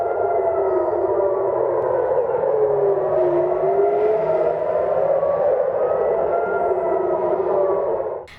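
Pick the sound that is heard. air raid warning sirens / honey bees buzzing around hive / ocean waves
air raid warning sirens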